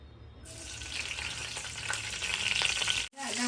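Chilli dropped into hot oil in a wok bursts into a loud, close sizzle that builds and crackles steadily for a few seconds, then cuts off briefly near the end.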